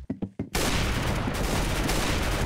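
Rapid gunfire in the video game Arsenal: three quick separate shots, then a loud, dense, unbroken burst of fire that goes on to the end.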